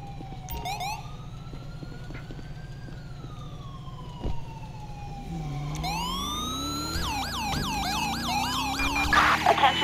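Ambulance siren in Grand Theft Auto 5 at Mirror Park, wailing then switching to fast yelping sweeps as the vehicle rolls along with engine hum beneath, moderately close.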